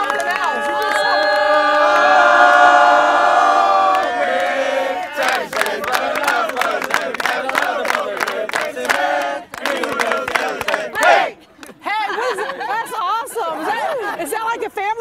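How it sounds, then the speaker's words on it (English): A family team at the 2014 Parkinson's Unity Walk cheers together outdoors, a loud sustained group shout followed by excited overlapping voices and chatter. "Is that like a family cheer?"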